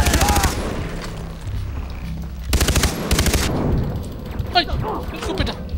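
A shotgun fires in Far Cry 3 in loud, sharp bursts, one at the start and a heavier cluster midway, mixed with in-game thuds and someone talking.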